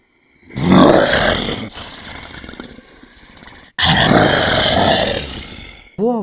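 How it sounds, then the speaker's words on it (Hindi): A deep, rough animal growl from a horror story plays loudly in two long surges, then cuts off with a short swooping tone at the end. "मुझे किसी जानवर के गुर्राने की आवाज़ सुनाई दी।"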